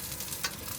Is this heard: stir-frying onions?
yes